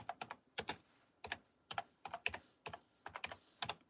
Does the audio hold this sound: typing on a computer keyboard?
yes